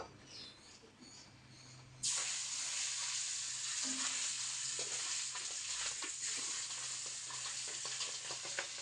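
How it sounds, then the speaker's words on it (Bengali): Marinated fish pieces hit hot oil in a home kitchen pan and burst into a loud, steady sizzle that holds for several seconds after a quieter start, with faint scrapes over the frying. "এখন মাছ ভাজবো"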